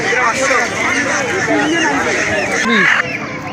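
Many chickens cluck and squawk close by in a dense, overlapping chorus at a local chicken market, with crowd chatter running underneath.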